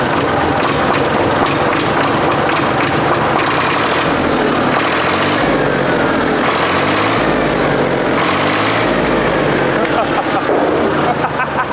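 A SAME Condor 55 tractor engine running close by, a loud continuous rough chugging with a slightly uneven rhythm as it idles and varies, and people talking over it.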